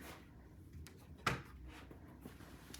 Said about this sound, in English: you have even more drawers.